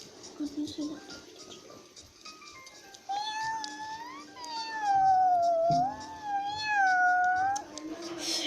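In a school classroom, children imitate a cat with long, wavering, rising and falling meows, loud and drawn out, over a din of kids chattering and an adult voice speaking.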